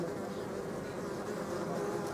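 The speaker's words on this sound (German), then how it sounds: "Die fliegen ruhiger, die Hornissen." An Asian hornet flies close by with a steady, calm droning buzz that holds evenly throughout and is heard alone without speech.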